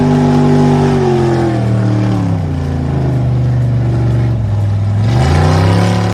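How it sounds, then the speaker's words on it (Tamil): Engine of a 1970s pickup truck converted into a boat, running on water; a loud, close motor that rises and falls in pitch as it revs, with a steady drone throughout. "1970களில் உபயோகத்தில் இருந்த பிக்கப் ட்ரக் வகையை சேர்ந்த கார் ஒன்ன போட்டா கன்வெர்ட் பண்ணி தண்ணி மேல ஓட விட்டுருக்காங்க"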